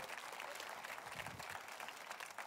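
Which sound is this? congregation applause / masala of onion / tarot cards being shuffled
congregation applause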